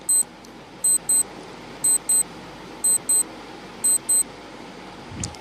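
A quiz countdown timer ticks with bright electronic double beeps, five evenly spaced pairs about a second apart, crisp and near over a quiet hum, ending with a soft thump.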